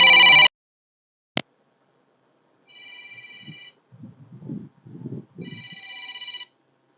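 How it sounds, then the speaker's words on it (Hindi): Phone alarm ringing with bright electronic tones: one loud burst at the start and a brief blip, then longer steady beeps repeating, with muffled voices talking underneath between the tones. "ये अलार्म को हटाते काहे नहीं है।"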